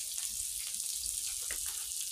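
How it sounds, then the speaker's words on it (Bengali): Green chillies fry with onions in a pan, making a soft, steady sizzling hiss that continues for a couple of seconds at low volume, with no voices. "তো কাঁচা লঙ্কাকে ভেজেই দিয়ে দিচ্ছি"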